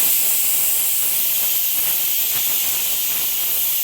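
A pressure cooker venting steam after its whistle, a strong continuous high hiss that holds loud and steady throughout, with no voices over it.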